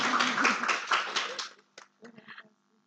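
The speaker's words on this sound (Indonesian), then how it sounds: "Tepuk tangannya dulu dong teman-teman." Audience clapping at a campus expo talk show, a dense burst of applause for about a second and a half that fades out, followed by brief scattered talk.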